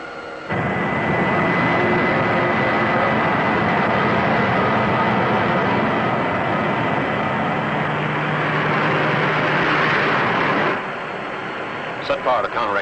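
A 1950s science-fiction spaceship's engine roars as the craft turns, a loud steady rumbling drone with a high whine that cuts off abruptly near the end, with no talk over it.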